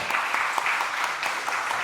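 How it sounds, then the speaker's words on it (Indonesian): Audience applause at an Indonesian arts talk event, a dense steady patter of many hands clapping together, fairly loud and close, with no speech over it. "Tepuk tangan untuk Abijar."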